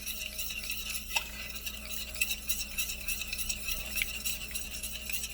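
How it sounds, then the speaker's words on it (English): A ginger and goldenseal cold remedy being stirred, a soft, close swirl with a couple of faint clinks of a spoon against the container over a steady background hum. "And we're going to stir it up a little bit."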